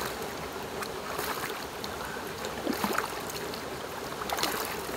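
Cold river water splashes and trickles over someone's legs as they rinse off outdoors, a close, continuous watery wash with a few louder splashes.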